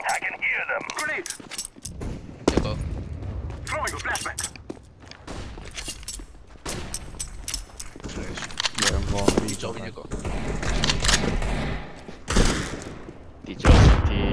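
Shotgun blasts and other gunfire in the video game CS:GO during a competitive match, with sharp repeated bursts and clattering impacts mixed with in-game noise, heard alongside a voice talking.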